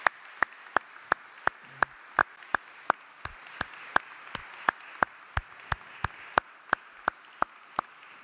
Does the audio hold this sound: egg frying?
no